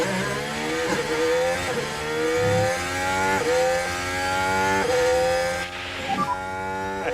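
Formula 1 cars scream past in the F1 Manager 2013 racing game at the Canadian circuit, high-pitched engines rising through gears in repeated upshift sweeps, loud and continuous.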